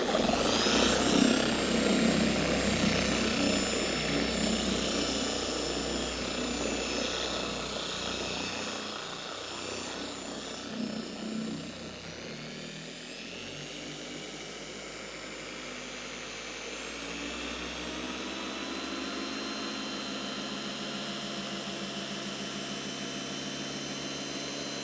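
A car paint polisher runs at its highest speed setting on a painted panel. It gives a loud, sustained whining drone with a rough texture, and the tone shifts and thins partway through as the polish breaks down. No one speaks.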